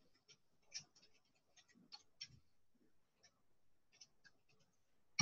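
Faint, irregular clicks of someone typing on a computer keyboard, scattered taps and short bursts with pauses, quiet and close, no talking.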